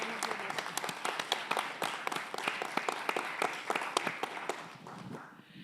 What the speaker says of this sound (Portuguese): eu queria dar uma salva de palmas para a Fototeca Brasileira